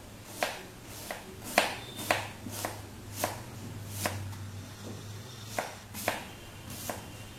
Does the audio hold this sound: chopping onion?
yes